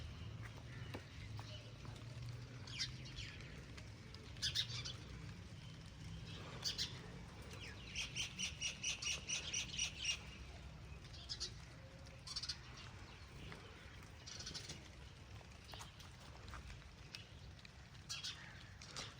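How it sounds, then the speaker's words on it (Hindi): Birds chirp in quick repeated bursts, with a rapid run of calls in the middle, over a soft wash of rain falling on leaves and faint background noise. "और चिड़ियाँ आपस में मस्तियाँ कर रही हैं"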